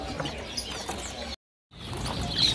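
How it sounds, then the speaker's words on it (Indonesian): Cucak kembang birds in a bird shop give faint, scattered chirps over a soft background hiss, with a short silent break partway through and a brighter tweet near the end. "ada juga stok burung cucak kembang, teman-teman."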